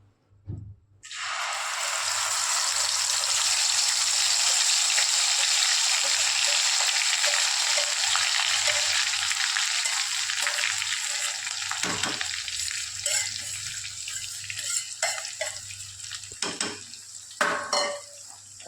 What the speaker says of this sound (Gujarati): હવે તેમાં ડુંગળી અને ટમેટાની પેસ્ટ નાખશું.